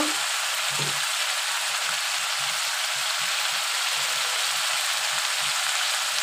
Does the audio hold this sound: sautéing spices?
yes